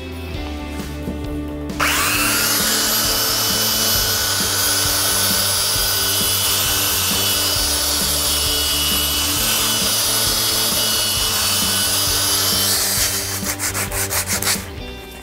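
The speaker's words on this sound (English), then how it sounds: "The best way is by using an electric sander." An electric sander runs over pallet timber, a loud continuous whirring buzz with gritty abrasive rubbing that starts abruptly, holds steady for about eleven seconds, then winds down; close and alone, no talking.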